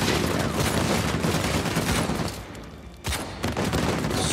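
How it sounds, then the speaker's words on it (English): Heavy gunfire in the Uncharted 4: A Thief's End video game, a dense loud fusillade of rapid shots with rumbling booms that eases briefly before more shots crack in near the end. "Shooting."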